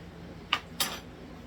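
Deep-fried french fries land on a dinner plate in two short, close clinks a moment apart.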